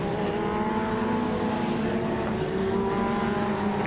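Caterham race cars at Zandvoort circuit, a steady engine drone holding loud and close for the whole stretch with a faint voice under it.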